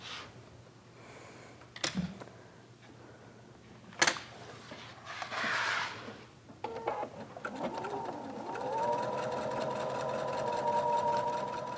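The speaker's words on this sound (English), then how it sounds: "I just take it over to my sewing machine and sew it" A sewing machine runs in short bursts amid handling clatter and a couple of sharp knocks, then hums steadily at a higher, even pitch.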